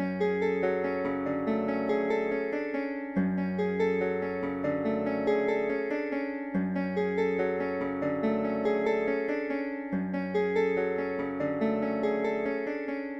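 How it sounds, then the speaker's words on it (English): An ethnic drill melody from the Indian Dreams VST preset plays a steady, looping plucked phrase that repeats about four times. It sounds close, bright and continuous, with no talking. "So the first sound I used is from this Indian Dreams VST."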